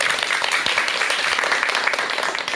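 A lecture audience applauds steadily as a psychiatrist is introduced to speak on the bodhisattva and mental health, a dense, even wash of many hands clapping close by, with no voices over it.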